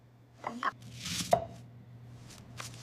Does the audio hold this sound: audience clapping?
no